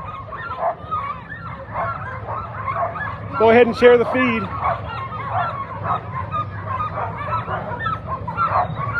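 Alaskan husky hound mix sled dogs bark and yip at a sled dog race start on 4th Avenue in Anchorage, mixed into crowd noise with an announcer talking over the din.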